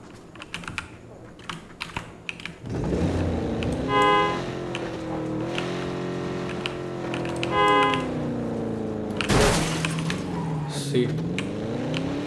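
A vehicle engine in PUBG Battlegrounds revs up and pulls away, its pitch rising and falling over several seconds, loud and close, mixed with keyboard clicking and voices talking.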